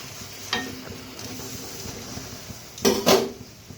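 A lid is lifted off a cooking pot of moong dal with taro. A faint clink comes early, then a pair of louder, close metallic clatters near the end as the lid comes away, with no speech.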